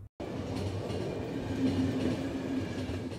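A train rolls steadily in the video game The Final Station, a continuous loud rumble of wheels and carriage noise with a faint rhythmic clatter, starting abruptly after a brief silence and carrying on alone.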